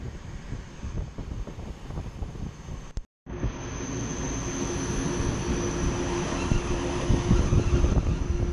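The Flåm scenic railway train runs through a Norwegian fjord valley, a steady rumble of rolling wheels with wind buffeting the microphone. A brief dropout comes partway through, then the rumble carries on evenly.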